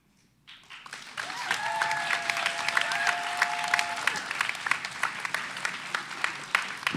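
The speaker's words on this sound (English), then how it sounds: "give them more noise for that, more applause" An audience at a school spoken word competition breaks into applause after a quiet pause, lively clapping with a few whistles and cheers that builds quickly and carries on steadily.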